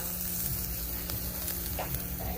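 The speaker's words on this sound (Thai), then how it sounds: "ย่างปลากันต่อนะจ๊ะ" Salt-crusted tilapia grilling, a dense steady sizzle with a few soft crackles and pops, close by and continuous, no one talking over it.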